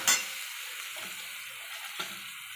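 Finely chopped tomatoes frying with onions in a pan for pav bhaji, a steady sizzle throughout, with two brief clatters of utensil or added food rising above it.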